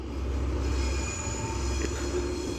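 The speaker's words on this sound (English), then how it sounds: "First time I've recorded it leaving on diesel." Diesel train 73963 pulls away from the platform at Deal with a loud, steady engine drone, its wheels squealing faintly over the rails.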